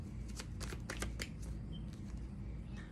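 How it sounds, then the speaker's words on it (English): Tarot cards being pulled from a deck and shuffled, a run of quick papery riffles and slaps in the first half, then softer handling, fairly faint and with no talk. "I'm actually gonna pull all the cards before I start."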